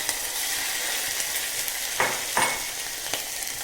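Ginger-chili paste and potatoes sizzle loudly in hot oil with asafoetida for a Gujarati potato curry, a dense continuous hiss broken by two or three sharp stirring scrapes.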